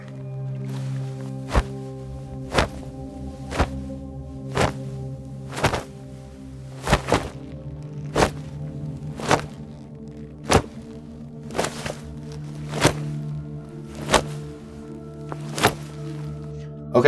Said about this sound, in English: Gloves are essential for action sounds